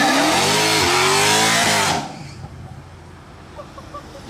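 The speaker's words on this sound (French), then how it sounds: "Petit burn-out en C63 AMG avec une ligne là." A Mercedes C63 AMG does a burnout in Monaco, loud screaming tire squeal and revving engine for about two seconds, then cutting off abruptly to quieter street ambience.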